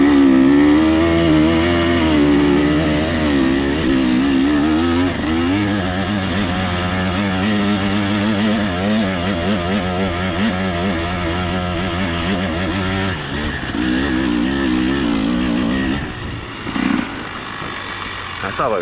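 Off-road vehicles drive nearby on rough terrain in Bulgaria, their engines droning and revving steadily with shifting pitch throughout. Someone talks over the engine noise.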